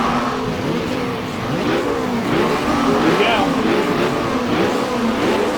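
Several 1965-era race car engines rev and roar together at the start of a race in the rFactor sim at Longford, a dense, continuous pack of rising and falling engine notes heard up close with no other sounds.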